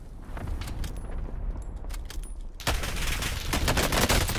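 Rapid video game gunfire, bursts of sharp cracking shots that grow denser and louder in the second half, with no talk.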